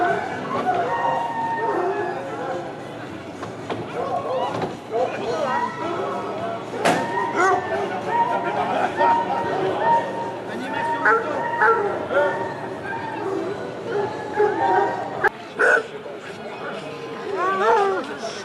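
Barking and yelping from a pack of hunting hounds at a French hunting festival, scattered and moderately distant, mostly under continuous crowd chatter and someone talking.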